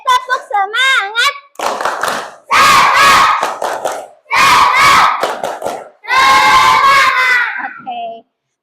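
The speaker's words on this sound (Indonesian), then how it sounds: "Sekali lagi tepuk semangat." Schoolchildren in a classroom repeat the tepuk semangat cheer: a teacher's brief lead-in, then loud blocks of unison shouting and rhythmic clapping in three or four powerful bursts with short pauses, ending abruptly.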